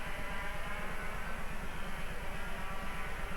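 Formula A racing karts with Rotax engines drone in a steady, throbbing buzz with a rapid pulsing rhythm, loud and continuous throughout, with no talking.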